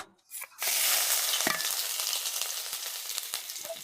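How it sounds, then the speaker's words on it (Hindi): Finely chopped ginger dropped into hot oil with cumin in a kadhai gives a loud, steady sizzle that starts after a brief quiet moment and holds throughout, with a few soft stirring knocks and no voices. "अदरक को बिल्कुल छोटे छोटे पीसेज में फाइन चॉप करिए। इसे और तेल में ऐड करिए।"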